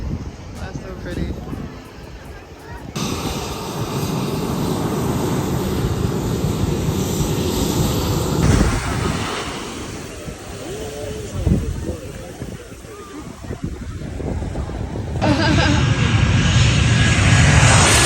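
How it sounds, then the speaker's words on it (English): A low-flying airplane roars steadily over Maho Beach in St. Maarten, loud and close, its engine noise mixed with heavy wind buffeting and people talking nearby. "Maho Beach with the plane that comes down super close"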